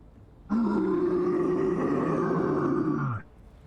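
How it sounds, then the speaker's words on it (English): A titanic creature lets out an enormous, earth-shattering roar, a single sustained, rough, guttural bellow that starts abruptly, holds steady for nearly three seconds and then cuts off. "you hear an enormous, earth-shattering roar."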